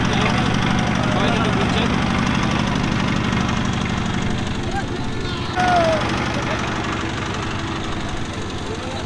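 A country boat's engine chugs steadily with a low, knocking idle as the boat pulls away on a river at the India–Bangladesh border, the drone continuous and close throughout.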